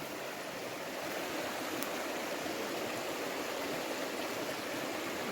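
Mountain stream in the Canadian Rockies rushing steadily close by, a dense, unbroken wash of flowing water with no voices over it.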